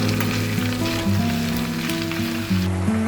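Chicken sizzling as it fries with ginger-garlic paste for chicken pickle, a steady close crackle of hot oil and spatter running throughout.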